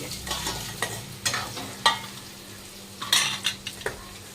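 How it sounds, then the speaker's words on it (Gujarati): A ridge gourd vegetable dish being tempered and stir-fried in a pan makes a soft sizzle under repeated sharp clinks and scrapes of a metal spoon against the pan, with a low steady hum beneath. "એક બાજુ મરચાં શેકાય છે, એક બાજુ શાક વઘારાય છે."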